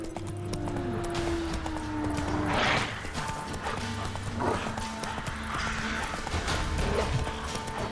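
Horse hooves clop rhythmically in a steady gallop in The Witcher 3, with a brief whinny and game ambience underneath.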